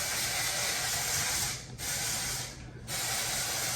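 OGX Blow Dry Extend dry shampoo sprayed onto a wig in two loud, sustained hissing bursts, each broken by a brief pause, close to the mic with no talking.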